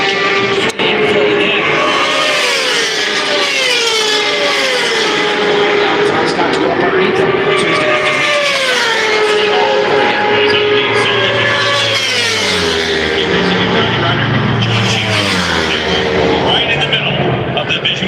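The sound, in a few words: racing motorcycles lapping at Daytona 200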